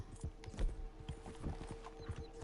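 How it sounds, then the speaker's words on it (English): Horses' hooves clip-clop in a PS4 video game, a quiet, irregular patter of soft thuds spread across the short clip. "Horses."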